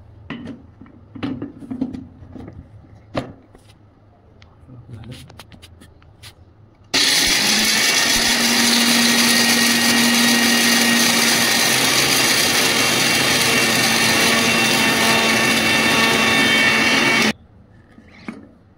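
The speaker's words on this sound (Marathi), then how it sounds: "मिक्सर लावून" A mixer grinder whirs loudly and steadily for about ten seconds as it grinds a handful of peanuts fine for a ridge gourd curry, after some brief clatter and knocks.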